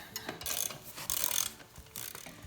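A ratchet clicks in short bursts while tightening a large Harbor Freight exhaust pipe expander, with close, rough mechanical clatter in several quick runs and no voices.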